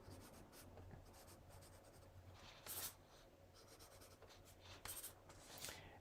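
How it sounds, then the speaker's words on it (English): A pastel pencil scratches over dried white pigment ink on paper, soft dry rubbing strokes in short irregular bursts, faint and close, with no talking. "because I'm scratching off some of the white ink that I already applied there"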